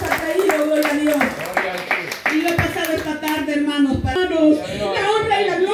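A church congregation at a thanksgiving assembly in El Salvador claps hands for Christ, a steady rhythmic clapping under loud preaching and singing voices.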